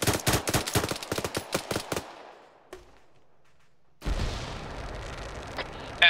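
Machine gun fire in ArmA 3 with a BTR armoured vehicle nearby: a rapid burst of about ten loud, sharp shots, a brief lull with one distant crack, then a rumbling roar of heavy fire and noise.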